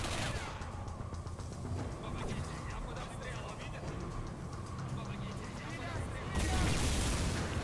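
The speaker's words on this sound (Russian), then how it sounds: "Граната, граната." Gunfire and a grenade blast in the first-person shooter Singularity, a dense, continuous clatter of shots with a heavier burst near the end, all under urgent shouting.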